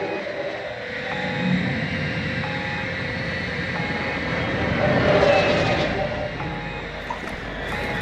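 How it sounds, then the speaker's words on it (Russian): Kamikaze drone from the Call of Duty video game flying overhead, a steady droning engine roar that swells slightly mid-way and holds continuously throughout, with faint game effects in the background. "Вызываю дрон-камикадзе. Дрон-камикадзе готов к подрыву."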